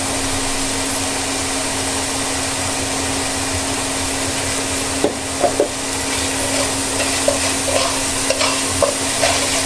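Spice paste of coriander powder, local red chilli and a little turmeric sautés in a pan, giving a loud, steady sizzle with a constant hum, and stirring scrapes and knocks join in the second half.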